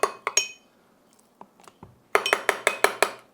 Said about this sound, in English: We're going to spoon in some mayonnaise.